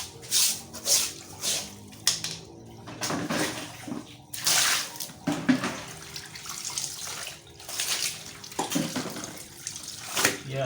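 Water splashes and sloshes in uneven bursts onto a dirty house floor being cleaned, with wet scrubbing sounds and faint voices nearby.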